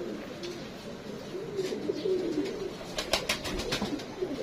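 Saharanpuri pigeons cooing softly in a loft, low murmuring coos rising and falling steadily, with a few sharper sounds near the end.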